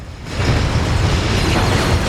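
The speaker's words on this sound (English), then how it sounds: "Oh, the explosion, the gunfire, the carnage!" Dense, loud explosions and gunfire rumble continuously in the Dread Zone arena combat of the video game Ratchet Deadlocked, a heavy wash of booms with no talk.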